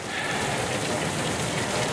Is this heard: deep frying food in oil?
no